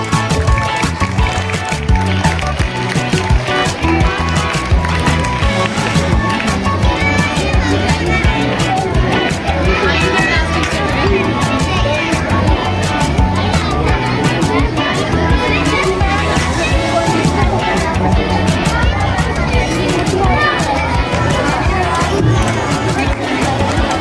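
A large crowd at a school felicitation ceremony applauds and cheers prize winners as they come on stage, a dense, steady roar of clapping and voices lasting throughout, with children's shouts mixed in.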